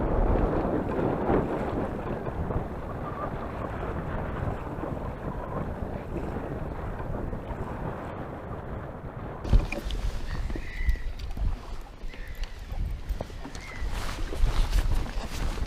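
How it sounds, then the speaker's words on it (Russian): Strong wind buffets the microphone on a fishing boat, a constant loud roar with choppy water and waves beneath it, the gusts growing harsher and more broken in the second half, and no voices heard. "Очень сильный ветер, ребята."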